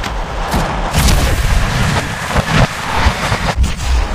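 Gunfire in the mobile video game Apex Legends Mobile: loud, continuous booming shots and heavy impacts that crowd together with no pauses.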